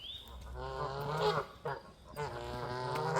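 Canada geese call nearby in a few honking, nasal cries that rise and fall, with faint background outdoor noise between them.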